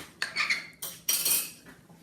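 A utensil scraping and clinking against a dish while mixing cake batter, several short close scrapes in uneven bursts, fairly quiet with no talking.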